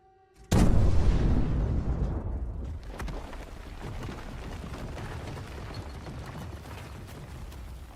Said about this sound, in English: So when everyone leaves the blast zone, the mines are detonated.